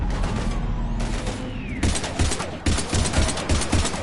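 Gunfire in Mass Effect 3, dense rapid bursts of automatic weapons crackling in layered volleys, loud and close, with a brief lull before the shooting picks up again.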